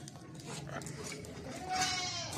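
A nanny goat with her kid bleats at a livestock sale, a wavering cry rising near the end over a murmur of background voices and farmyard noise.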